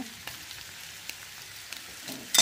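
Onion paste frying in white oil for egg biryani, a soft steady sizzle with light scraping stirs, then a brief louder clatter near the end; no voices.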